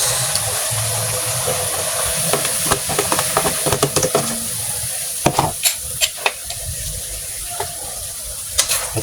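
Cabbage is stirred in a sizzling pan for bihon gisado, giving scraping and clattering knocks over a steady frying hiss, loud and close, denser toward the end.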